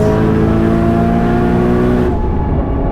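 Loud, close engine of an 850 hp Nissan Skyline R34 GT-R V-Spec with a big turbo on the Nürburgring, a steady high-rev drone that drops abruptly as it upshifts near the end.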